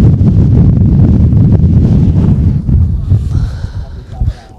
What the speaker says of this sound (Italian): mentre si alza il vento freddo qui al centro sportivo Maracanà.